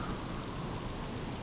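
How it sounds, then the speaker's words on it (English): Steady rainfall in the video game Miasmata, a continuous even hiss of rain spread across the whole clip with no talking over it. "hey, it's raining"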